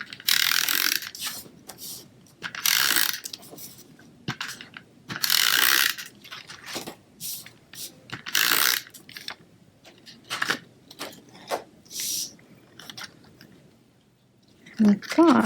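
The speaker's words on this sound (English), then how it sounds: "I'm just going to put this down with some SNAIL adhesive." A SNAIL adhesive tape runner is pressed along a card in short, repeated ratcheting clicks and rasping bursts, close and fairly loud, with a brief voice at the end.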